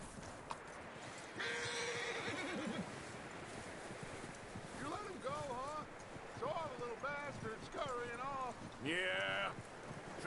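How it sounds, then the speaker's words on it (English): A horse in the video game Red Dead Redemption 2 neighs and whinnies several times at close range, with hoof clip-clops and voices talking over it. "That looks like a decent horse."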